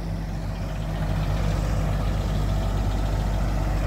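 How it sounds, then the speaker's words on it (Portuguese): A loaded tractor arriving, its heavy diesel engine a loud, steady low rumble close by, continuous throughout with no talk over it. "Chegando mais um trator cheão aqui."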